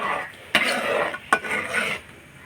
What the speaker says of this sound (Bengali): দেখেন মাছ আর মশলা 5 মিনিট কষানো হয়ে গেছে।